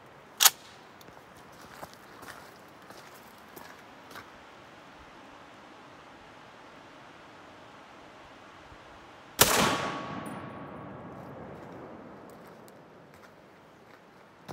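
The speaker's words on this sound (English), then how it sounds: "We're gonna shoot some full metal jacket at that same propane bottle, same distance" A .30-06 rifle fires a full metal jacket round at a propane bottle outdoors: a single loud, sharp report with a long fading ring afterward, preceded by faint handling clicks over steady background noise.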